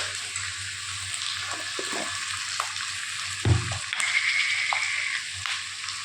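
Onions frying in a pan give a steady, moderate sizzle, with a soft bump of handling noise partway through and a brighter hiss in the last couple of seconds.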